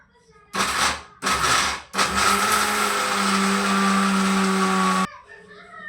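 A mixer grinder grinds cashews and other dry fruits into powder, whirring in three bursts, two short pulses and then a longer steady grind, loud and close, stopping abruptly.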